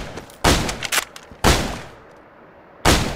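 Heavy gunshots ring out in a video game firefight, three loud, close, sharp blasts with echoing tails spaced about a second apart, plus smaller cracks in between, with no talk.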